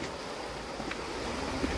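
A small stream that feeds an old village washhouse on the Camino trail gives a steady, soft broadband rush of flowing water, continuous and even throughout, with no voices.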